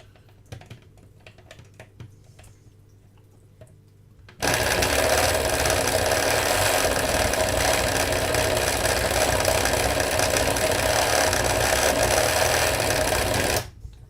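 After a few quiet seconds, a paint mixer starts abruptly and runs loud and steady with a dense rattling whir for about nine seconds, then cuts off.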